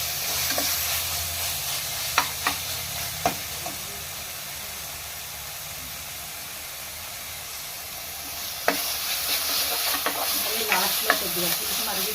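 Tomato pieces and curry leaves fry in hot oil, a steady loud sizzle and hiss with occasional knocks of a spoon stirring the pan.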